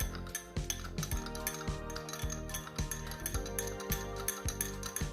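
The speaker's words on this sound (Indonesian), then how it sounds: "setelah itu kalian aduk ya teman-teman hingga tercampur rata" A spoon stirred in a glass of warm water, a string of bright clinks and taps against the glass at a quick, uneven rhythm, close and clear, with no talk.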